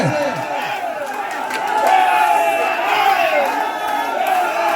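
A crowd at a quarter-final match in Kerala cheers and shouts in a loud, steady roar, with individual voices calling out and a swell in volume midway.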